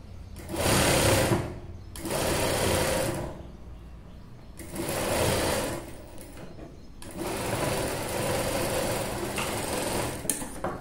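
A sewing machine stitches the folded center edge of a boat neck dress in three loud, sustained bursts separated by brief pauses, close and alone without talk.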